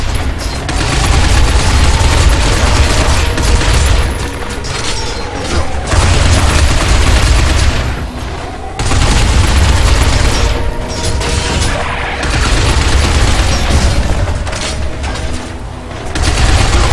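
Sustained heavy gunfire from the Binary Domain video game: dense, loud automatic bursts and booms roll on almost continuously, broken by a few brief pauses.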